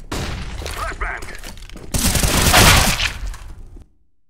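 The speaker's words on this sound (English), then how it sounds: "Throw in the flashbang!" A flashbang grenade in CS:GO goes off as a loud blast with a harsh ringing burst, preceded by scattered clatter and gunfire-like pops, then fading into silence.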